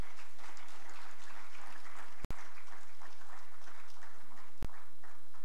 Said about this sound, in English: I believe he deserves a better round of applause.